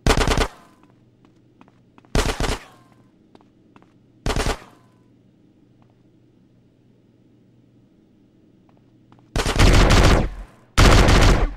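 Gunfire in the video game GTA San Andreas on a casino rooftop: loud short bursts of automatic fire at irregular intervals, with two longer sustained volleys near the end and quiet background between.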